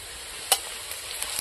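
Panch phoron five-spice hits hot oil with one sharp crackling burst, then settles into a faint, steady sizzle with a few small pops, nearby in a home kitchen while puffy luchi and a vegetable ghonto are being made.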